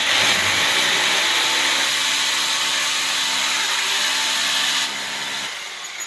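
Electric drill boring holes while mounting a TV antenna dish on a rooftop, a steady loud whirring grind running continuously for several seconds before easing off near the end.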